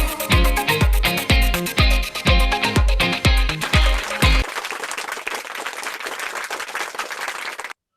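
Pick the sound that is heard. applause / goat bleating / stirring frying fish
applause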